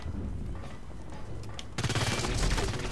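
Gunfire rattles in the online shooter Blacklight Retribution, starting as scattered distant shots and then erupting into a loud, dense burst of rapid automatic fire near the end.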